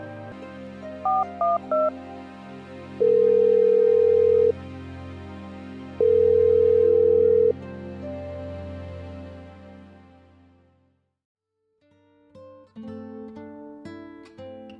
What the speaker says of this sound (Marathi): तितक्यात फोनची रिंग वाजली.